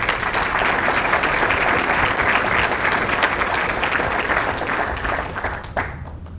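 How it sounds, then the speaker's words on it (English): Sustained applause from a ceremony audience for a color guard and band at an Army battalion change of command, dense and steady throughout before tapering slightly at the end. "I'd like you to join me in a round of applause for their perfect performance"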